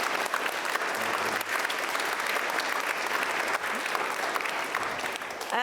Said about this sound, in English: I think they need applause.